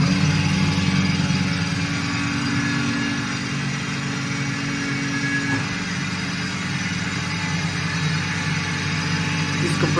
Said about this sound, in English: Let's start the compressor.